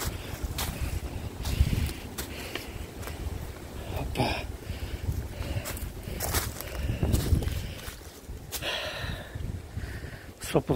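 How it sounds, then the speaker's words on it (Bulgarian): Strong wind gusting around fortress ruins, a rough rumbling buffet against the microphone that swells and fades throughout, with footsteps and occasional bursts of nearby voices mixed in. "Голям вятър."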